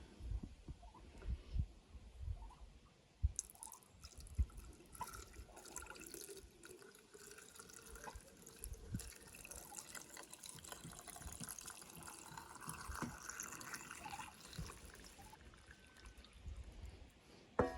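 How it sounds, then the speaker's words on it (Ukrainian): Cooled marinade pours and trickles steadily into glass jars of tomatoes for several seconds, with soft splashing and a few light clinks of glass, close by and fairly quiet. "Наливаємо його у слоєчки до помідорів."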